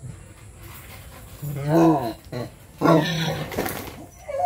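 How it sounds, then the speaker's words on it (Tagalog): A pregnant sow, 84 days along, being vaccinated for Mycoplasma, giving two loud drawn-out squeals and grunts up close, with a person speaking around them. "Ito po ay kumalaw ang baboy."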